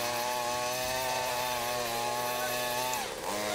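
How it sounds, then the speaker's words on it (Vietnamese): A 68cc gasoline earth auger on a push-wheel frame drills into soil, its engine droning steadily and loudly up close, the pitch sagging briefly near the end as the bit bites in. "Với dòng máy khoan đất động cơ 68cc này thì có thể khoan được trên tất cả mọi địa hình"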